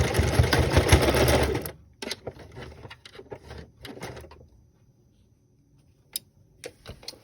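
A sewing machine back stitching stretch velvet for a mask and headband, a loud close mechanical rattle for almost two seconds, then a few short bursts and scattered ticks and clicks.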